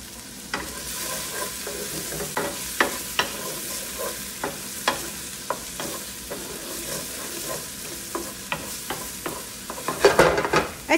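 Tomato paste frying in a pan, a constant close sizzle broken by repeated sharp scrapes and knocks of a spoon stirring, with a louder clatter near the end.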